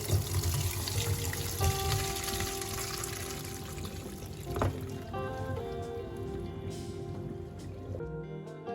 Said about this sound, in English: I am submerging the berries in water, and then I'm adding baking soda to the water